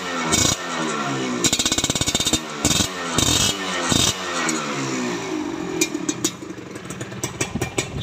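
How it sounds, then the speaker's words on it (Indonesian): A 2004 Yamaha RX-King two-stroke motorcycle engine runs close by with a raspy, buzzing tone, rising in several short revving bursts before settling into an uneven idle. "Mesinnya halus, bro. Mesinnya halus."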